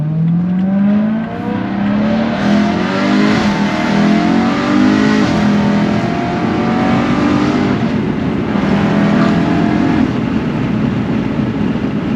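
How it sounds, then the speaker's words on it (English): A 2011 BMW M3 E90 drives with its exhaust note droning loud and close, the engine rising and falling in pitch through gear changes and revs for the full length, with no talk. "Hopefully you enjoyed those little bit of driving clips and exhaust clips"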